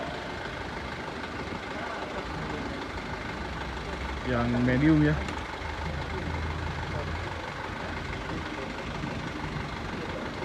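A Mercedes 1621 JetBus 3+ tour bus idles with a steady low engine rumble throughout, while someone talks nearby and a brief louder burst of voices rises midway.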